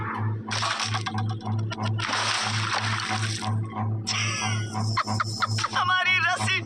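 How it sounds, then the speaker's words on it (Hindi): A burst water bag spills its load onto the ground outdoors in two long, rushing splashes, over a steady low hum and a few squeaky tonal noises near the end. "हमारी रस्सी टूट गई और सारा पानी जमीन पर बह गया"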